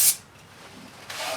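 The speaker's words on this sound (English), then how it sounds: "So I'll just spray some brake cleaner on," Two short hisses of brake cleaner sprayed from an aerosol can onto a new brake rotor for a 1985 Chevy K10 pickup, one at the start and one near the end, with quiet between.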